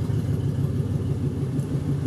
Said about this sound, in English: When this car van goes into drive, it's able to move forward.